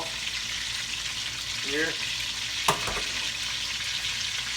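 Beef pot roast searing in a pot, a steady hiss and sizzle of frying that runs throughout at moderate level, with a brief voice and a clatter of utensil contact partway through.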